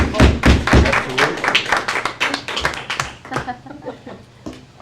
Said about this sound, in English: We gotta clap for him, John, Mr. Chance.